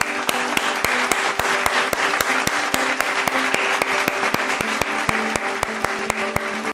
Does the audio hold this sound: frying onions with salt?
no